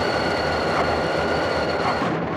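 Delaware & Hudson freight trains meet at Lanesboro in 1980, filling the air with a close, continuous rumble of rolling cars and grinding wheels with a faint high whine over it.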